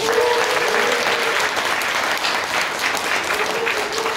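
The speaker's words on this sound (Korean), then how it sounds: "열광적인 강의 다시 한번 큰 박수 부탁드립니다" Loud, dense clapping from a crowded hall after a Korean political lecture, continuous and even for several seconds with no voices over it.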